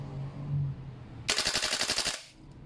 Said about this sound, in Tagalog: So ngayon, testingin naman natin full auto.